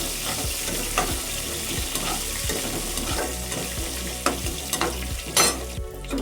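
Masala spices frying in a pan, with a constant close sizzle and crackle, broken by repeated rhythmic scrapes of a spoon stirring, and a few sharper pops toward the end.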